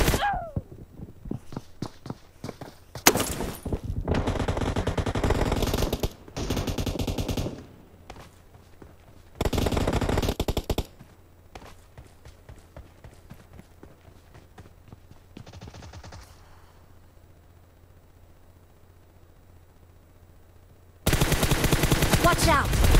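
Bursts of automatic gunfire in the mobile battle-royale game PUBG Mobile, several loud rapid volleys separated by quieter gaps with faint footsteps, a final sustained burst at the end.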